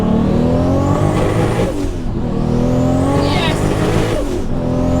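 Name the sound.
1400 hp Toyota Mark IV Supra accelerating, tires squealing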